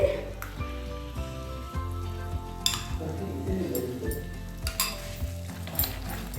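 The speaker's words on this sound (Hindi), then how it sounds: "तो हम डालेंगे 4 टेबलस्पून दूध की मलाई।" Sizzling palak paneer masala as milk cream goes into the pan, with a stirring spoon scraping and clinking against it at a loose rhythm, close and fairly quiet.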